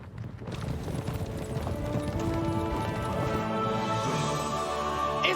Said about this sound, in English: I can hear the horses.